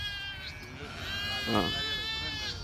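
Goats bleating on a farm pen, a couple of nearby high wavering bleats rising over the scene, with people talking in the background.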